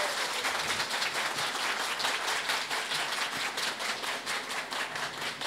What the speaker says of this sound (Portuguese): Vamos aplaudir nesse momento, então, a trovadora de Passo Fundo